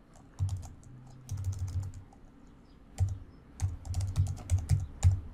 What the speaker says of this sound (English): Enter the password for your Microsoft account.